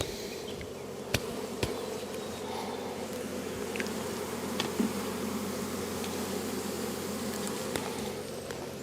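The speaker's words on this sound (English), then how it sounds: "A little bit more smoke, we can move those bees away." Honey bees swarm and buzz steadily around an opened beehive during an inspection, a dense continuous drone close by with a few sharper passes of individual bees.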